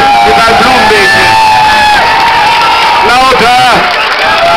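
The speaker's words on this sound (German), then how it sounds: "Begrüßen Sie mit mir jetzt mit einem tobenden Applaus den Michael Kröner" A crowd at an outdoor May festival in Haspe roars with cheering and whoops, a continuous loud mass of voices with scattered shouts and some clapping mixed in.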